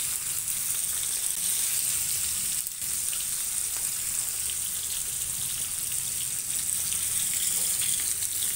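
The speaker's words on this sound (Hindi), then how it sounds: "तो अभी हम ये फिश जो मैरिनेट किया था इसको फ्राई करते हैं" Marinated Bangda fish fries in a pan for sukha, giving a steady, close, bright sizzle that hisses on without pause and with no voices.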